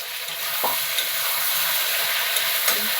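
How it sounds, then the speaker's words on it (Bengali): Ginger, green chili and tomato sautéing in a pan for a taro and prawn curry, giving a steady, even sizzle with a few soft stirring scrapes throughout. "কষিয়ে নিই।"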